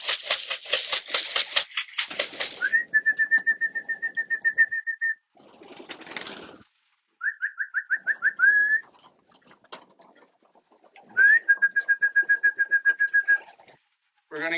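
Racing pigeons in a loft at feeding time. Bursts of rapid clattering alternate with long, bright, steady whistle-like calls and short repeated chirps, all close and loud, separated by brief silences.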